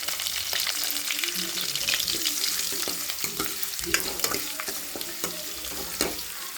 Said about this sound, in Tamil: கருவேப்பிலை போட்டுக்கலாம் ஸோ வெங்காயம் போட்டுக்கலாம் ஸோ வதக்கிடலாம்